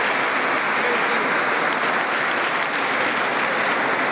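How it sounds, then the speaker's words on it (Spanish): Dense, loud audience applause at patronal festival celebrations in Coronel Moldes, an unbroken roar of many hands clapping from start to finish. "darle un fuerte aplauso y un agradecimiento profundo."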